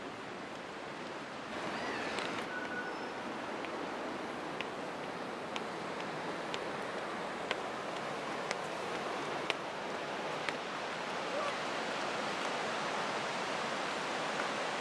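Water rushing through the bridge sluice on the river in Thun, a broad, steady roar of turbulent flow heard alone, with a few faint clicks scattered over it.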